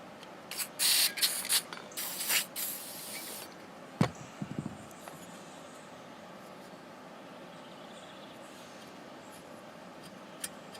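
WD-40 aerosol can sprayed on an old radio chassis, several short hissing bursts close by, followed by quieter clicks and small mechanical rattles.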